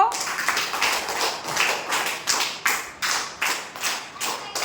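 A group of third-grade children in an Urdu school classroom clapping together in a quick, rhythmic beat, about a dozen sharp claps close by, with voices faintly mixed in.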